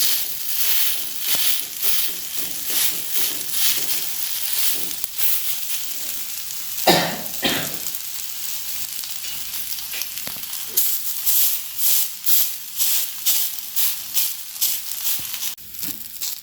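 Beetroot cutlets sprinkled with sesame seeds shallow-fry in oil in a pan, producing a steady close sizzle with repeated bursts and crackles and a sharper flare partway through.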